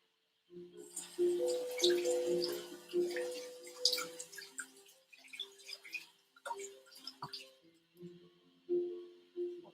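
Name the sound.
rinsing food under running tap water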